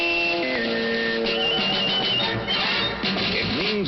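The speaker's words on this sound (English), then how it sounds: "Our sports signature sounds like this." A short radio station sports signature plays: a synthetic electronic jingle of layered tones and shifting beeps over a busy, slightly harsh background, with no voices.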